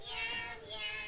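A novelty sweater plays a faint recorded cat meow, two short mewing calls heard softly.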